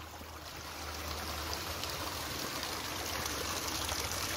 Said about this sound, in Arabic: الماء جاي هابطة من هاد الجبل هذا